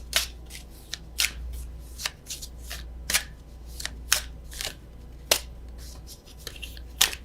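Tarot oracle cards being shuffled by hand, a string of crisp papery riffles and slaps in an irregular rhythm over a low steady hum, close and fairly quiet.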